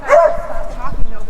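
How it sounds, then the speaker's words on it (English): A dog barks sharply up close, one quick yelping bark followed by a whiny, whimpering tail. "Not that you can hear any of this because the dog's barking."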